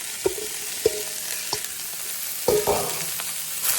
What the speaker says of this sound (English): now I'm gonna add my squash and my zucchini